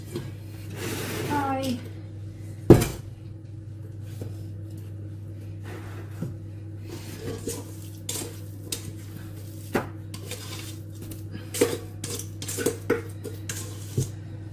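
Almond peach pie mixture scraped from a bowl, with scattered light clinks and scrapes of a utensil against the bowl over a steady low kitchen hum, plus one sharper knock near the start; a person talks briefly early on.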